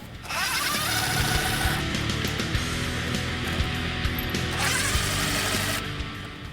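A power ratchet spins out differential cover bolts on a 2009-2017 Ford F-150 fitted with a cast aluminum cover, giving a loud, close, continuous mechanical whir with ticking rattles throughout.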